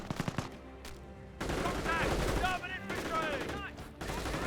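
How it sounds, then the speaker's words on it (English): Panzer Grenadiers firing StG assault rifles in the Company of Heroes video game, a dense rattle of overlapping gunfire that swells after a brief pause, with a voice talking over it. "Panzer Grenadiers with STGs engaging."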